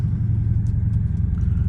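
A Dodge Scat Pack car on the road, heard from inside as a steady low engine rumble and road drone that holds evenly throughout, with no talking.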